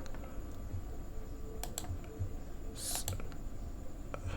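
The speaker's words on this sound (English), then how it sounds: "right click to select, and then Control B to paste" Mouse clicks and keyboard keystrokes at a computer running FL Studio, a handful of sharp, close clicks scattered over a quiet room hum, with no talk.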